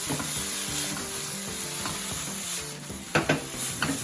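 Cooked broccoli tossed into a hot pan of chicken and vegetable stir fry gives a loud, steady sizzle, with brief scraping flicks and a couple of sharp clanks of utensil on the pan near the end.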